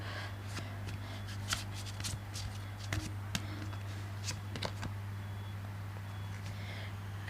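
Tarot cards shuffled by hand in a quiet room, a series of soft riffling flicks and taps bunched in the first half, faint against a steady low electrical hum.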